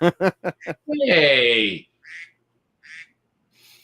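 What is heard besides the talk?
duck quack text message tone on phone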